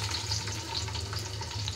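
Rice and onion frying in a pan give off a steady, close sizzle with a constant crackling hiss that never lets up.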